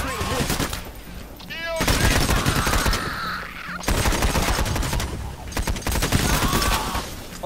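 Sniper and other gunfire crack in the video game Payday: The Heist, bursts of rapid shots in two long stretches amid in-game noise, with players' voices and game chatter mixed in.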